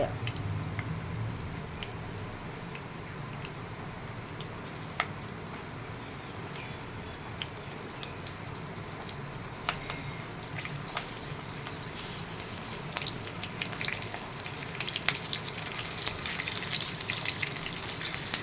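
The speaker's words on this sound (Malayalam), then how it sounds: "നമ്മൾ ഈ ഫില്ല് ചെയ്തിരിക്കുന്ന മുളക് ഓരോന്നായിട്ട് അതിലേക്ക് വറുത്ത് വയ്ക്കുക ചെറിയ തീയിലാണ് ഇത് ഫ്രൈ ചെയ്യേണ്ടത് ഷാലോ ഫ്രൈ" Stuffed green chillies shallow frying in oil over a low flame, a continuous close crackling sizzle with scattered pops and occasional faint utensil touches, steady throughout.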